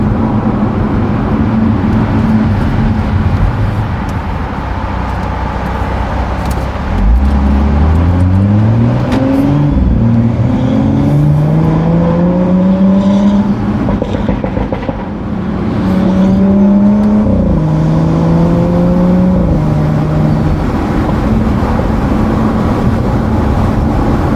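A loud BMW F30 engine rumbles and burbles with an aggressive exhaust burble tune, its exhaust note rising and falling as the revs climb in sweeping tones, continuous and close.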